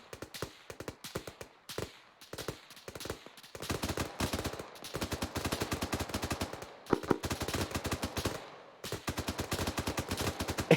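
Sustained L85 rifle fire in a military video game, rapid bursts of sharp automatic shots in long strings separated by short pauses, loud and close.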